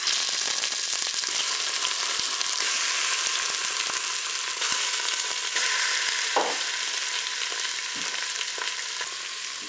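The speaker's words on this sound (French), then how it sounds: "Allez, je vais faire revenir mes hauts de cuisse." Chicken thighs browning in hot oil inside a Cookeo multicooker pot give a steady, loud, continuous sizzle and crackle from start to finish, with no talking.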